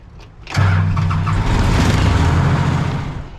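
An engine on a machine under maintenance cranks briefly and catches, then settles into a loud, steady low rumble that continues to the end.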